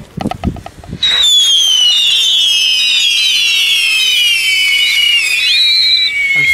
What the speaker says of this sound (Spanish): Suena un poquito más el chiflador.